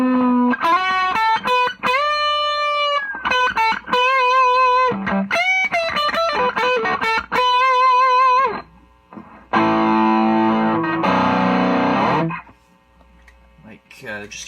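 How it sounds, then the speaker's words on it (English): Electric guitar lead driven through a TFA Effects Sound Cannon pedal, loud and distorted, with sustained singing notes and quick runs, then a burst of dense crunchy chords before it cuts off. "you can add a little bit of dirt there to color up your sound, and then when you really want to go into a lead sound"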